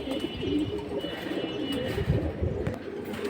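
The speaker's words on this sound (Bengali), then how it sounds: "এত সুন্দর কবুতর।" Caged pigeons at a bird market coo continuously and close by, forming a dense, low, throbbing chorus with bits of background noise.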